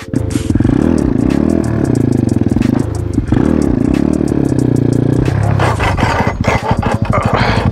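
Boom Vader Grom clone motorcycle revving hard during wheelie practice, a loud close engine rising and falling in repeated throttle bursts with rattling clatter near the end.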